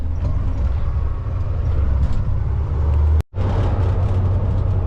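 Semi truck pulling a 53-foot trailer cruises down the road, a steady loud low rumble of engine and road noise filling the cab, with a brief dropout partway through.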